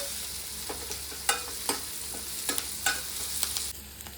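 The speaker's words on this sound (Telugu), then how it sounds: "కొంచెం ఫ్రై అవ్వాలి ఆనియన్స్" Onions fry in a pan for an Andhra-style brinjal and mango curry, giving a steady close sizzle with scattered clicks and scrapes as they are stirred, with no talk.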